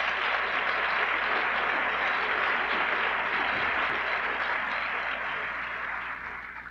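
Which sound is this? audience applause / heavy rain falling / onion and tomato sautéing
audience applause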